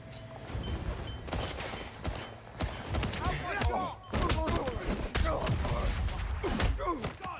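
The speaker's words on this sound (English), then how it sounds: "Throwing frag grenade!" A frag grenade is thrown and explodes during a firefight in the video game 007 First Light, with sharp, close blasts and scattered gunfire bursts over busy game noise and voices.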